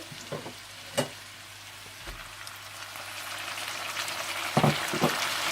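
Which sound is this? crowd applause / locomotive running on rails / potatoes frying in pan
potatoes frying in pan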